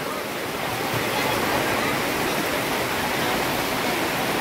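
Heavy rain pours down over an open weekly vegetable market in Yavat, a dense, continuous roar of steady downpour that drowns out other sounds.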